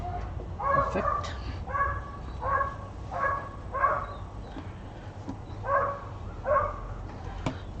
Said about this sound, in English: Doggy barking.